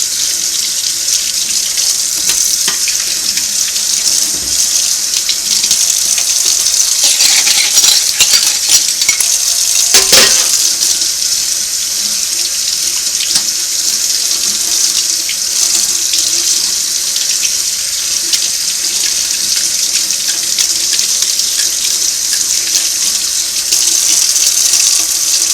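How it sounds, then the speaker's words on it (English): Cold water runs steadily from a tap over a vintage Singer buttonholer part as it is rinsed after degreasing, a loud, close, continuous splashing rush with small clinks and no talking. "Wash it with KRUD Kutter and rinse it with cold water."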